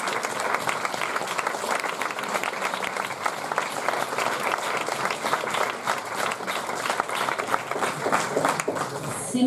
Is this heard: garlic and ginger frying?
no